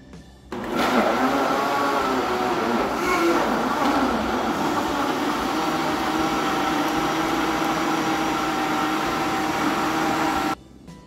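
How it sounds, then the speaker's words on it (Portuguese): A kitchen blender beats avocado dessert ingredients, with colorless gelatin added during mixing: a loud, steady motor whir that starts abruptly, holds for about ten seconds and then cuts off, with no talk over it. "nós vamos bater todos esses ingredientes e depois, enquanto estiver batendo, eu vou adicionar um pacotinho de gelatina incolor"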